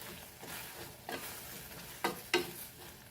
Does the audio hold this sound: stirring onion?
yes